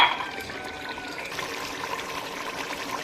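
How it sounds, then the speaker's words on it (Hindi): Water is added little by little to onion and tomato masala frying in a pan for kadhi chawal, giving a steady close sizzling hiss that flares loudest at the start and then settles, with no talking. "ये प्याज और टमाटर को मैश करना और साथ साथ ऐसे थोड़ा थोड़ा पानी डाल के इसको भूनते रहना"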